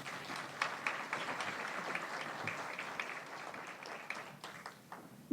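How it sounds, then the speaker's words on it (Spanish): Applause at a forum on dignified maternity in Mexico, a moderate, fairly distant spread of hand clapping with individual claps standing out, tapering slightly toward the end. "Por favor, un fuerte aplauso"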